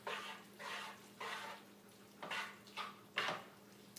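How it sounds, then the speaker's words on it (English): Pasta being tossed together with tomato sauce in a pan, a series of soft rhythmic scraping and clattering strokes, about six in a row, close and fairly quiet with no voices. "Mix it all together."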